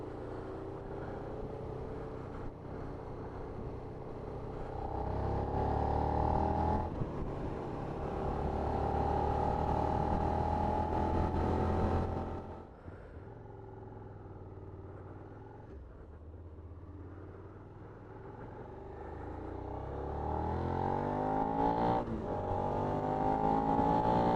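A 2016 Suzuki SV650A motorcycle engine under riding, a steady punchy rumble that rises and falls through gear changes, loud and close, with a brief dip in revs midway before pulling hard again.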